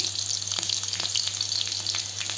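Whole spices crackle and sizzle in hot oil in a pan, a dense continuous bright hiss with small pops, close up and with no voices.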